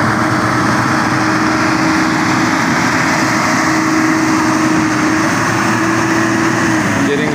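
A tractor engine drones steadily and loudly at a waterside launch, one continuous running hum with no break.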